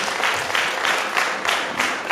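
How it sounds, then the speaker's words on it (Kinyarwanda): Guests at a wedding celebration applaud, a loud, dense burst of clapping from a crowd that carries on steadily throughout. "bakumbera amashyi menshi"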